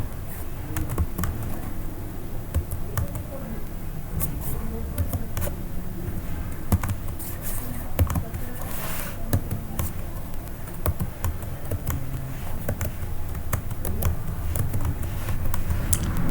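Letters being typed into an Excel spreadsheet on a computer keyboard, a steady stream of close, fast key taps running without a break under faint background noise.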